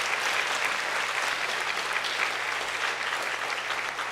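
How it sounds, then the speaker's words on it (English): An audience applauds the sisters after their performance at a rangapravesam concert, a dense, steady wash of clapping from many hands that holds evenly throughout with no voices over it. "maybe another round of applause for the sisters performing that piece today"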